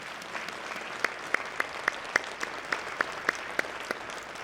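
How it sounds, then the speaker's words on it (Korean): A church congregation applauding during a Sunday worship service, with sparse individual claps standing out over a steady soft patter of many hands, moderately distant and fairly quiet throughout. "전능하신 주 하나님께 영광의 박수 드립시다."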